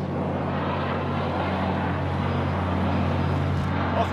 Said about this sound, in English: Hostile attack chopper carrying cash.